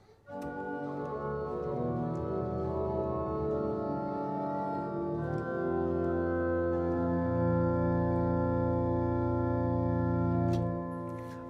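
A Haarlem church pipe organ sounds three stops together, a rich sustained chord with dense harmonics that shifts through several held notes, loud and steady without talk.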